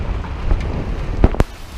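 Steady rain hisses throughout a storm, with two sharp crackling bursts near the end that may be thunder or near impacts.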